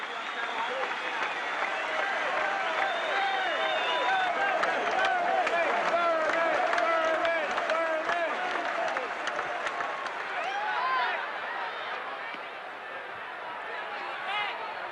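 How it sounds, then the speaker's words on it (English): A baseball stadium crowd at a Yankees game gives a long standing ovation, a dense, sustained roar of clapping and cheering that stays loud and even throughout, with crowd voices mixed into the wash. "A 9-minute standing ovation."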